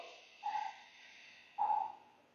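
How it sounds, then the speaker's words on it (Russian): Two deep breaths drawn during a guided yoga session, each a soft airy rush lasting a fraction of a second, the second slightly louder, separated by quiet. "поглубже вдох"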